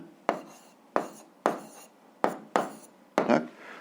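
Pen strokes on paper while working a school physics exercise: six distinct scratchy strokes spaced roughly half a second apart, close and fairly quiet, with no talking.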